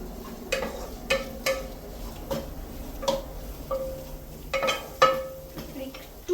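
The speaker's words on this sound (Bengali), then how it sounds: "এবারে এটা ভালো করে কষাবো।" Ginger garlic paste and chicken are stirred in a pan, giving an uneven run of sharp spatula taps and scrapes against the metal over a faint sizzle.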